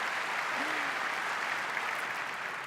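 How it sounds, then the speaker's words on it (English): Audience applause fills the room at a Microsoft 365 stage demo, a steady, dense wash of clapping that holds evenly for the whole stretch without a break. "Let's give her a round of applause."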